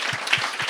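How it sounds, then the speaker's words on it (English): A short burst of audience applause, many hands clapping together in a steady wash with a few soft low thumps underneath. "Applaud yourself."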